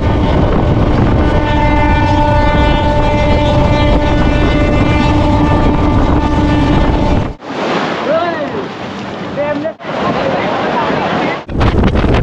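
Local train running from Howrah to Digha: a loud, steady rumble with tonal hum lines for about seven seconds, then broken, shifting rattling segments separated by brief dips.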